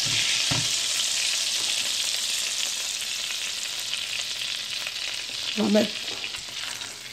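Beef fillet searing in foaming butter in a pan, with a loud, continuous close sizzle and frying hiss, a few knocks as the meat is moved, and a brief voice speaking over it.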